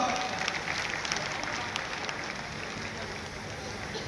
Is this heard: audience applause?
yes